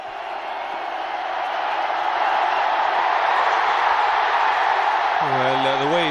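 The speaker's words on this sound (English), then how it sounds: "it's an animated crowd now" A cricket crowd at an India versus Pakistan Test match in Mohali roars after India take a wicket, a dense, loud swell of cheering that builds and holds, with a voice speaking over it near the end.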